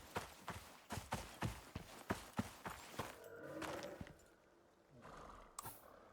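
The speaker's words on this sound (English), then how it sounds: "it sounds like I have a horse on me" Horse hooves gallop in a video game, a quick run of sharp clip-clop beats that gives way to a rushing blur and fainter hooves toward the end.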